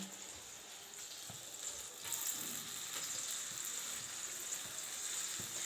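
Breaded cutlets fry in melted butter with a soft, even crackling hiss that swells slightly after a couple of seconds, faint and continuous with no voices.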